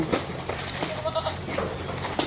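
Goats on a Thai goat farm with a shed and a free-range plot bleat in several short, wavering calls over a murmur of background noise.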